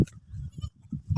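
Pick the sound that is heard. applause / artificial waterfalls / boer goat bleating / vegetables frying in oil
boer goat bleating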